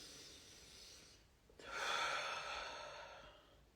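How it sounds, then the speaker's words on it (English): A single deep inhalation is drawn in near and clear within a quiet guided healing meditation, a soft airy rush swelling then slowly tapering. "Take a deep breath in."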